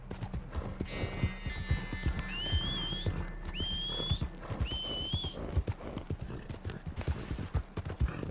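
Horse hooves clip-clop steadily on a trail in the Red Dead Redemption 2 video game, with repeated close thuds joined by a few whistle-like whinny calls and faint game ambience.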